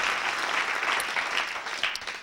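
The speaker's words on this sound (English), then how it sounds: "Give him a round of applause." Studio audience at a stand-up comedy TV taping applauds a comedian, a dense, steady wash of clapping that stays loud throughout, then thins slightly toward the end.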